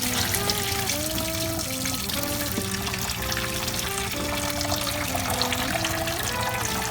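Water from cooked spaghetti pours and trickles into a sink as the pasta is drained, a continuous splashing stream with a faint hum of background music underneath.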